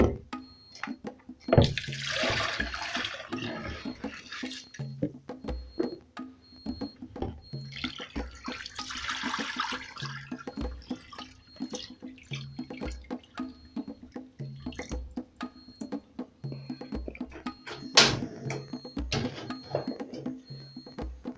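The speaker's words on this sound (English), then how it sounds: "I'm going to strain the water" Soaked rice being strained in a kitchen, with water pouring and dripping through a strainer into a sink in two longer splashing bursts, scattered drips and clinks in between, close and fairly quiet, no talking.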